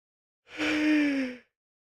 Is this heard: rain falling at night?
no